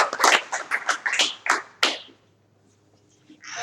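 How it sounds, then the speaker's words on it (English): Audience at an air quality hack night applauding a guest speaker, a short burst of close, uneven claps and taps that fades out after about two seconds, followed by near silence. "please join me in a round of applause for Dr. Bakia Nelson."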